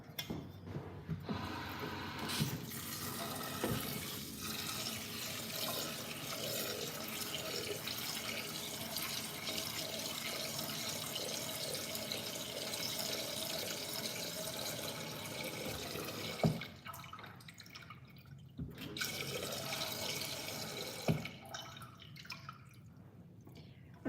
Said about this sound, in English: And I'm gonna add some water.